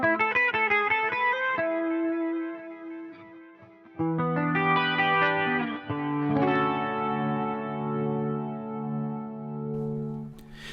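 EART GW2 headless electric guitar through a compressed amp tone with chorus and echo effects, ringing chords and sustained notes that swell and decay, played alone.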